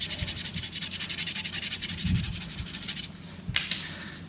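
Rhythmic scrubbing of a car wheel coated in thick, clinging cleaning gel during a deep clean, a steady rapid back-and-forth rubbing with broadband swishes that pauses near the end, then one brief louder stroke.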